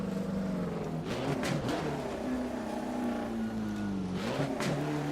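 1960s Alfa Romeo 33 Stradale in Assetto Corsa, its engine droning near 3000 RPM at about 60 mph, a steady close hum that dips and swells with a couple of brief throttle changes, no talking.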